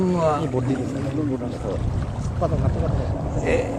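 Boats running on the water at the Khairan tourist area: a low, steady motor rumble and churning water across the whole stretch, with people talking over it.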